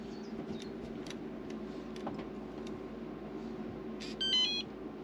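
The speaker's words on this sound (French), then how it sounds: "le petit bip nous indique qu'elle est déverrouillée" A smart lock (Welock Touca51) gives a short electronic beep sequence when unlocking, a few quick tones near the end, over a steady low hum in a quiet room.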